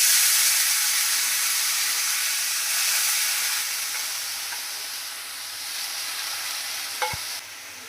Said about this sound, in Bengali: এখন ওই তেলের মধ্যে মোচাগুলোকে ভাপ দিয়ে নেব।